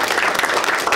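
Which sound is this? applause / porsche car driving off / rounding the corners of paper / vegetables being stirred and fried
applause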